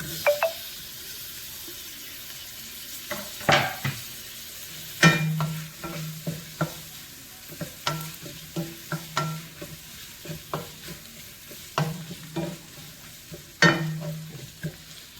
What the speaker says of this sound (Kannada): ಈಗ ಟೊಮೆಟೊವನ್ನ ಹಾಕ್ತೀನಿ.